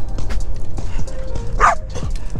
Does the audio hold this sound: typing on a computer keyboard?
no